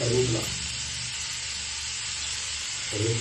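Curry leaves sizzling in hot oil make a loud, steady, close hiss that fills the whole short stretch, with brief voice sounds at the start and end.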